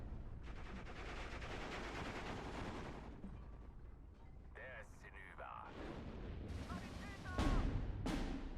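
Artillery barrages in the war game Steel Division 2 rumble and crack in dense, continuous bursts, with sharp whistles and impacts near the end, loud under a voice talking over the battle.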